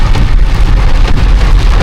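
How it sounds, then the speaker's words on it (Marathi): Heavy rain pours down during a journey, a loud, dense, unbroken hiss with a low rumble underneath and no voices. "पावसाने वाट लावली. पाऊस जाम आहे. भर पावसात प्रवास करतो."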